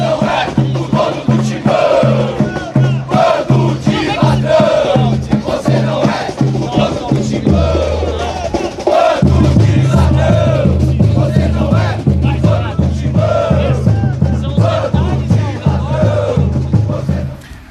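Corinthians supporters protesting during an impeachment vote on club president Augusto Melo chant loudly in rhythmic unison, a massed wall of voices that drops briefly before surging back stronger and continuing unbroken.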